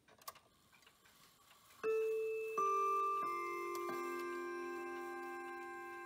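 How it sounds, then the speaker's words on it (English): A rare Howard Miller mantel clock sounds its quarter-hour chime: after a few soft clicks, several clear bell tones strike one after another and ring out, slowly fading. "when I lift it up, it's going to chime the 15-minute chime, and you'll get to hear the hour strike as well"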